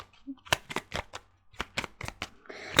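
Cards are shuffled and drawn for a tarot-style card reading, a close run of sharp riffling snaps and flicks in uneven bursts with short pauses between them.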